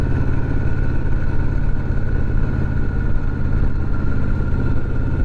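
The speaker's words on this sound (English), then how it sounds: "Oh, bike sounds good." Harley motorcycle engine running steadily, a loud, close, continuous low rumbling idle with an even throbbing texture and no change in pitch, no voices.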